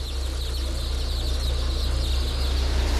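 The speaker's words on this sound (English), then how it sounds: "Chicks are roughly dumped onto moving conveyor belts, which haul them off to be sorted, debeaked, and for the males, killed." Newly hatched chicks cheep continuously on a moving sorting conveyor in a factory-farm hatchery, close and loud over a constant deep machinery hum.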